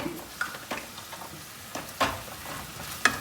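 Cumin seeds sizzling in hot oil for tempering, a steady crackling fry punctuated by several sharper pops and spatters, close up with no voices.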